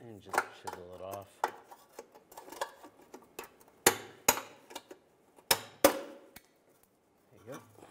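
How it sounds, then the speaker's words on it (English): Sharp metallic strikes of a chisel knocking off a rivet on a 2006-2011 Cadillac DTS ring out in an irregular series, several loud hits spaced apart, with a bit of speech in between. "and just chisel it off."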